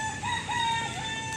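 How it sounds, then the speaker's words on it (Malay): Chickens and a rooster at a mini zoo give a steady run of clucks and short crowing calls, close and fairly loud, with no talk over them. "Kita menjumpa ayam-ayam."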